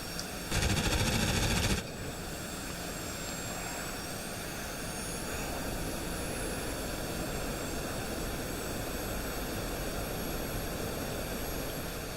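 An L-39 jet aircraft flies past, giving a steady roar with a high whine. A short, loud, crackling burst near the start stands out before the even engine noise carries on alone.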